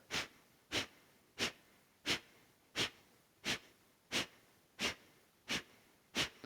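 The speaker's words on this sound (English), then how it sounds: "feeling the pumping in the abdomen, in and out, forceful exhale like you're trying to clear something out the nasal passages" Forceful rhythmic exhales through the nose during vinyasa yoga breathing practice, about ten sharp evenly spaced bursts, each followed by a pause, close and clear with no talking.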